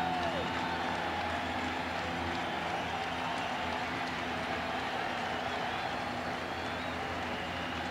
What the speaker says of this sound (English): Crowd gets back with it a little bit.